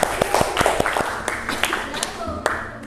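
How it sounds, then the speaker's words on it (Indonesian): A class of students in a school lesson claps for a classmate, distinct sharp hand claps in an uneven rhythm close by, loosening and thinning out toward the end, with a faint voice underneath. "beri tepuk tangan untuk teman kalian"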